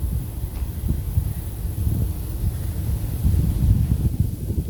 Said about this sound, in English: Got a little bit of wind today.